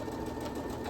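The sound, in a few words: sewing machine stitching ends of a skirt belt together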